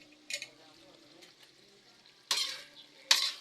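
Chayote being sautéed in a pan for ginisang sayote: a faint sizzle under quiet stirring, with three sharp scraping strokes of a utensil against the pan.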